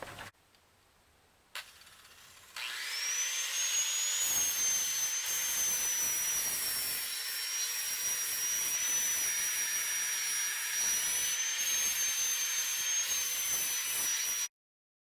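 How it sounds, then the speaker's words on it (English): A power grinder whines steadily with a high sustained pitch while grinding rust off a trailer axle, starting after a couple of brief clicks and running close and loud for about twelve seconds before cutting off. "I'm going to finish this axle here, grind it off and prime it."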